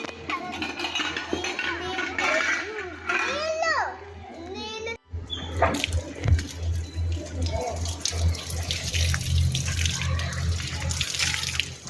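Water is poured onto plants by first-grade children during a school activity, splashing and trickling steadily beneath lively children's voices and an adult's talk.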